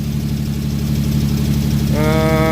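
A car engine, run for the first time after long storage and running very rich, idles with a steady low rumble and a faint knock. A higher whine joins near the end.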